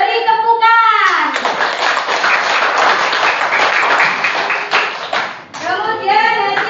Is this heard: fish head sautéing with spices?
no